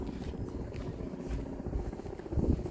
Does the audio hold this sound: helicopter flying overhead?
yes